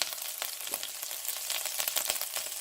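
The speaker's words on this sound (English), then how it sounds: "they're really starting to splatter" Ginger garlic paste splattering in hot oil while making a potato and capsicum curry, a steady bright sizzle with rapid crackling pops throughout, close and alone.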